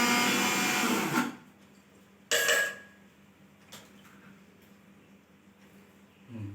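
Electric grinder whirring loudly as it coarsely grinds lentils, running for about a second, stopping, then a short second burst, followed by quiet with faint clicks.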